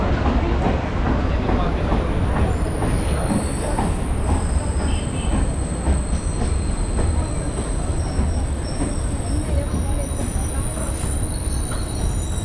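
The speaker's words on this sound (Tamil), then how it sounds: "இப்போ ட்ரெயின் நிற்கிறது தான் பார்த்தீங்கன்னா பெரம்பூர் ரயில்வே ஸ்டேஷன்" A train idles at Perambur railway station in Chennai with a steady low rumble and broad hiss, punctuated by faint metallic squeals and clatter, continuous and fairly close throughout.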